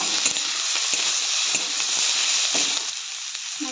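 Capsicum and green chillies fry over a high flame for jackfruit chilli, a loud continuous hiss of sizzling with faint stirring scrapes and no voices.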